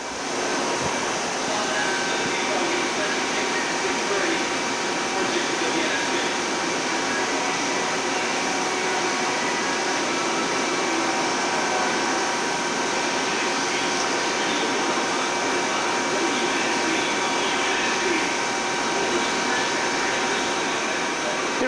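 A Carell A31 series plate bending roll machine runs with a steady, loud, continuous mechanical hum and whine that never changes over the whole stretch.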